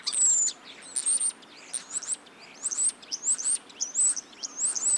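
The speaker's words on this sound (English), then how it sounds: "Oh, it's a beautiful bird. This might be my favourite. But it's making so many different noises." A bird in Bulgaria in March calls repeatedly, high chirps and whistled notes in short bursts, fairly close and clear over quiet surroundings.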